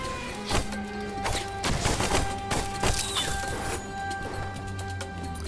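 Repeated explosions and impact bursts from enemies in the Forest Foregone West area of the 2D action game Afterimage, several loud broadband blasts in irregular succession over layered game music and effects.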